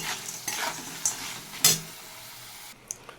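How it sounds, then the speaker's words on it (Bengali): Jackfruit seeds fry in a pan with a light sizzle while a utensil stirs them, scraping and clinking against the pan in a few sharp knocks, close by, with no talking. "আমার কাঁঠালের আটিটা ভাজা হয়ে গেছে, আমি অল্প একটু হলুদ দিচ্ছি, নাড়াচাড়া দিয়ে নামিয়ে দিচ্ছি"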